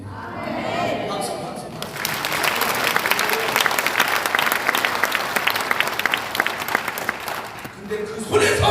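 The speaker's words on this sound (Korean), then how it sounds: "박수" A church congregation at a Full Gospel revival service in Pyeongtaek breaks into loud, dense applause after a preacher's voice, many hands clapping steadily for several seconds before speech resumes at the end.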